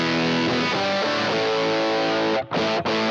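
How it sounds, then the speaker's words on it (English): An electric guitar chord rings through an Ibanez SD-9 Sonic Distortion pedal, giving a loud, heavy, fizzy distorted tone that sustains, then cuts out twice briefly near the end, with no talking. "let me kick on that hot, heavy distortion again"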